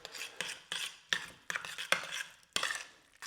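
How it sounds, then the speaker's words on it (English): A spoon scrapes and dollops avocado puree onto a plate for a chickpea risoni dish, giving a series of close, wet scraping and tapping strokes in an irregular rhythm, about eight in quick succession with no voices. "Put a couple of tablespoons of your"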